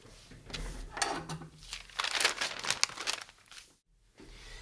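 Muslin fabric ripped by hand, a close crackling, crinkling tear in a few bursts, with rustling handling noise between them and a short silence near the end.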